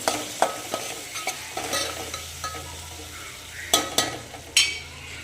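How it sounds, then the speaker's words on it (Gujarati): A spoon stirring spiced potatoes with turmeric and coriander-cumin in oil in a frying pan, repeated sharp scrapes and knocks over a soft sizzle, close and uneven in rhythm, with no voices. "બસ એને મસ્ત રીતે હલાવી નાખવાનું"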